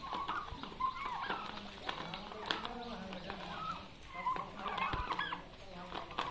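Free-range turkeys gobble and cluck around the area with bird calls scattered throughout, while people talk in the background.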